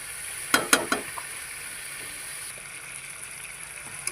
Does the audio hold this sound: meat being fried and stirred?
yes